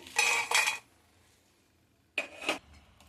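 Fried dried cluster beans go onto a plate in two brief clattering bursts of crisp rattling against metal, separated by a quiet pause.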